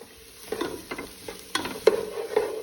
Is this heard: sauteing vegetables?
yes